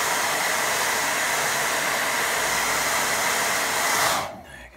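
A hair dryer blowing on a watercolour painting gives a loud, steady whooshing roar, close up, that runs unbroken for about four seconds and then cuts off.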